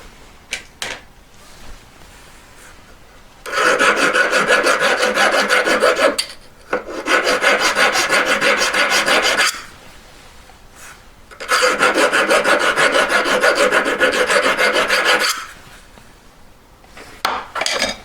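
A hand file rasps against metal while filing out under a jewelry collet, in three long, steady bursts of strokes with brief pauses between them, close and fairly loud, with no talking.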